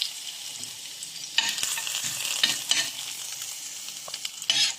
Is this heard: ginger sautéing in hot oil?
yes